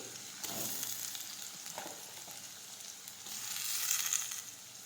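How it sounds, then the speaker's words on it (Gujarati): Chopped onions, tomatoes, grated ginger and green garlic sautéing in a pan for an eggplant bharta, a steady soft sizzle with a few stirring scrapes, fairly quiet and close. "હવે સાતળી લઈશું"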